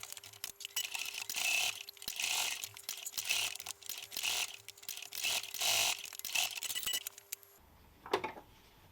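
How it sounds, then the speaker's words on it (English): Sewing machine with a blind hemming foot stitches fabric in quick close bursts of rapid needle clatter, pausing briefly between runs before stopping near the end. "I've kept the blind hemming foot on my machine, so that'll give me a nice even stitch"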